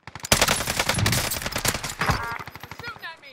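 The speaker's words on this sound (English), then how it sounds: "I'm about to shoot these guys" A Finn light machine gun fires in a video game as a rapid, loud, close burst of full-auto shots lasting a few seconds, with a voice talking over part of it.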